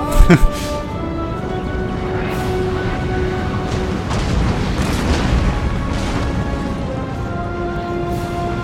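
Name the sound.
cannon fire from enemy, Total War: Napoleon video game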